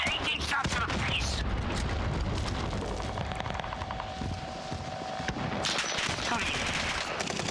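In the Warzone video game, heavy gunfire rattles almost nonstop, with rapid overlapping shots and booming blasts forming a loud, dense barrage that barely lets up.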